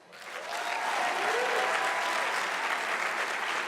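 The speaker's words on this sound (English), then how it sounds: "give Lindsay a huge round of applause" Sustained applause from a crowd, swelling quickly after a quiet start and holding steady, dense clapping throughout with no talking.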